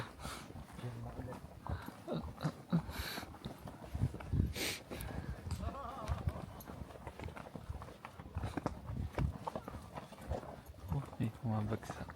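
A horse walks down a steep slope, its hooves clopping in an irregular rhythm amid rustling and shuffling, while people talk throughout.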